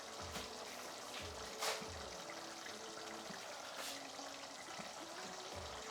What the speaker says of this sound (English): So I add my water to the mix,